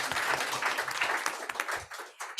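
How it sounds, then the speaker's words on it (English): Indoor audience applause for an honoured comic book writer and artist, a dense sustained patter of many hands clapping close by, tapering slightly toward the end. "Yeah, you can clap for her."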